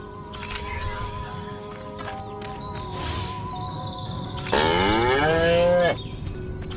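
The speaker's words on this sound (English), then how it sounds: "Again with the moo? I think these lactating bovoids are trying to fool us." A cow in the video game Destroy All Humans lets out one long, loud, close moo over background game music and ambient tones, with no talk.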